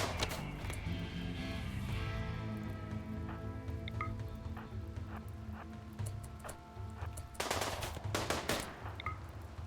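Gunfire in the colony game RimWorld comes as quick bursts of sharp cracks and rattling shots, some clustered and some spaced apart, moderately loud with no speech.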